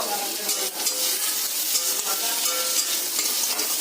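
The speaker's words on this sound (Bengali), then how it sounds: "এবার একটা বড় সাইজের টমেটো কুচি দিয়ে দিয়েছে অল্প করে লবণ দিয়ে দিতে হবে টমেটো গলার মতো" Chopped tomato frying with a little salt in a pan for a spiced egg dish, a steady close sizzle with stirring scrapes throughout, no voices.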